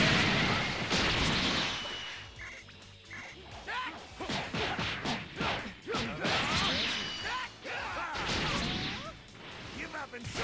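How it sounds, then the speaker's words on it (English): An instant transmission explosion super attack in Dragon Ball Xenoverse bursts out in a dense run of loud crashing blasts and impacts, with a player talking over the game. "Use my super attack. Instant transmission explosion."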